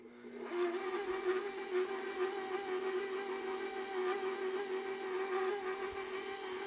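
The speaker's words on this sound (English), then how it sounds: "Back on low, let that liquid mix in and go back to the Vitamix" Vitamix blender running steadily on its low setting as liquid mixes into a red chile brisket enchilada sauce, a continuous loud whirring motor hum with no breaks, close by and alone.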